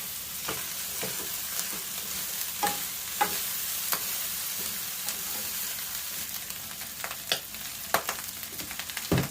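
Sisig stirring and frying in a pan, with a steady hiss of sizzling under repeated clicks and scrapes of a utensil against the pan, close and busy with no talk.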